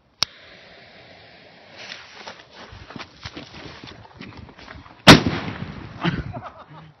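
A sharp bang at the start, then crackling and rustling, and a second loud burst near the end followed by fizzing crackle, from a 30-year-old Indian firework going off.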